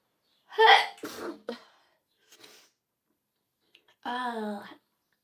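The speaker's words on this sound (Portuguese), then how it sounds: "Eu vou espirrar" A single close sneeze bursts out sharply, then a brief voiced sound follows after a short pause.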